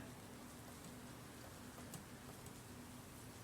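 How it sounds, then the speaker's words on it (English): Recorded rain sounds playing quietly in the background, a steady soft hiss of falling rain with faint drop patter, unbroken and without voices. "Let me just put on some nice rain sounds or something"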